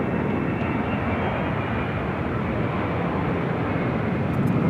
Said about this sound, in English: followed by the 747-8 Intercontinental with Korean Air Flight